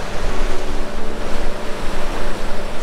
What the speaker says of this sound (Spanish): Como pueden ver, estas olas que están ahí